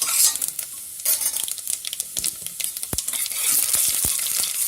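Chana dal and urad dal frying in oil with mustard seeds in a pressure cooker, steady close sizzle under repeated scraping stirs and occasional sharp spatters.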